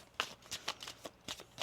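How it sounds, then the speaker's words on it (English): Oracle cards being shuffled by hand in a quiet room, a run of about seven crisp riffling bursts, near and fairly soft, with no voices. "Let's get one more shuffle here."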